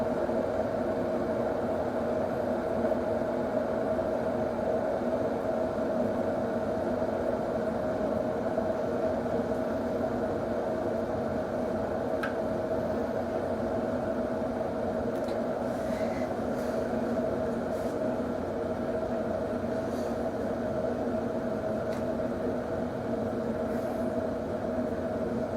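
VonShef electric kettle nearing full boil, a steady, dense rumbling roar of churning water with a constant hiss, unchanging in level and close by, with a few faint clicks near the end.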